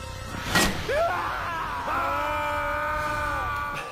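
A man in a film screams in a few rising, strained yells, followed by a longer sustained cry, moderately loud against a quiet background.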